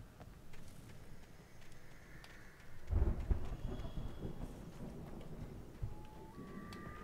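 Thunderstorm in the video game Alan Wake: a low rumble of thunder swells at about three seconds over a steady bed of rain-like noise, moderately loud, with no talking.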